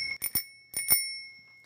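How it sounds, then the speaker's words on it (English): A handheld bell rung as a running gag on a live talk show, two quick double rings with bright metallic tones that ring out and fade, close and clear, with no speech. "That's the baby bell."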